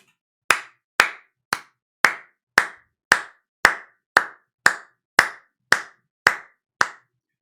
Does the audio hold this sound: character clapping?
yes